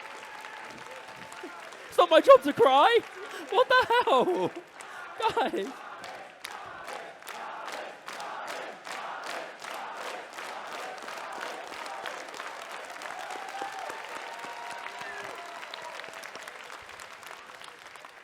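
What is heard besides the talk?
audience applause at osu! tournament grand final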